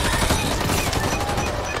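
Rapid automatic gunfire from a submachine gun in the zombie shooter Back 4 Blood, a short dense burst of shots fired at a zombie, loud and close.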